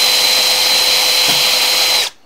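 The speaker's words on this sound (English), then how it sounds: "drill that hole out so that my vacuum line will fit inside of it" A power drill bores a hole through a piece of wood, whining loudly and steadily close by, then cutting off abruptly at the end.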